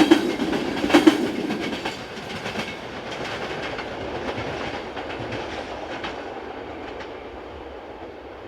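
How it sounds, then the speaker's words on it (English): A Class 350 locomotive, 350-020, hauls a passenger train in Slovakia, with rumbling wheels and rhythmic clickety-clack passing close and gradually fading. "This is 350-020, working train number 606, the 1007 from Umene to Bratislava."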